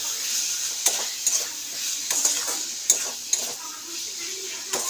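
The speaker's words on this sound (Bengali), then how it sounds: "এইটাকে ভালো করে আমি কষে নেব।" Paneer curry masala is stir-fried in a pan over a steady soft sizzle, with a spatula scraping and knocking against the pan in irregular clinks.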